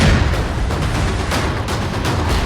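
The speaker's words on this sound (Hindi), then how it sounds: "4, 3, 2, 1 और जोरदार ब्लास्ट। एक धमाका हुआ" Blast demolishing a house, a loud, continuous roaring rumble with broadband noise lasting the whole stretch and no voices.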